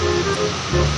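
Water rushes loudly and steadily over the Singomerto river dam in Banjarnegara, a continuous roar with no other sound.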